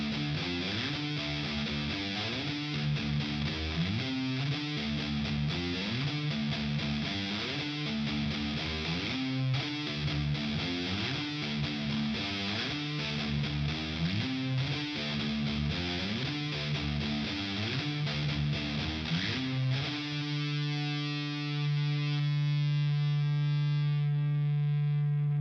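Heavy, distorted electric guitar riff, sliding between notes with extra muted thuds in between, played loud and steady with bass and drums, then settling into a sustained ringing chord at the end.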